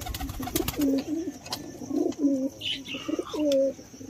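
Pigeons coo repeatedly in soft, low throaty phrases, several calls spaced across the stretch, with light clicks and background bustle.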